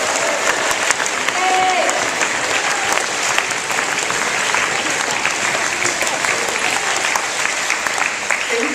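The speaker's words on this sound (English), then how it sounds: "Let's hear a big round of applause." Sustained, dense applause from a school audience honoring a student, loud and steady for nearly nine seconds, with faint voices mixed beneath the clapping.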